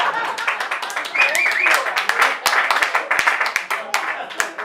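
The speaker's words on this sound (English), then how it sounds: "No applause for that?" Scattered audience clapping at an evening concert, a modest burst of hands that stays fairly close and steady throughout, with some crowd murmur and a brief voice mixed in.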